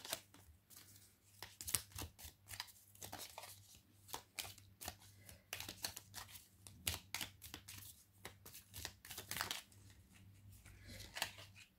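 Tarot cards are shuffled by hand close to the microphone in quick, crisp bursts of riffling and slapping, repeating irregularly with short pauses, over a faint low hum.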